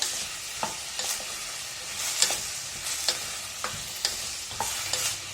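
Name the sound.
vegetables for vegetable stew sautéing in a pan on high flame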